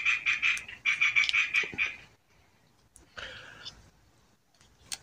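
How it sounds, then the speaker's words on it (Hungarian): Frogs croak in rapid, rhythmic bursts nearby, two long runs of pulsing calls, then quieter scattered croaks and faint background noise. "Na, a békák brekegnek."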